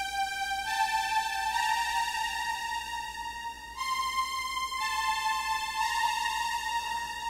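The 'Super Strings' synthesized string pad preset in NanoStudio holds bright sustained chords, shifting pitch a few times, steady and moderately loud with no voices.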